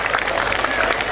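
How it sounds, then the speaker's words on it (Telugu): A school cultural programme audience claps in a steady, dense round of applause, close and continuous with no pauses across the short stretch. "గట్టిగా చప్పట్లు కొట్టాలండి"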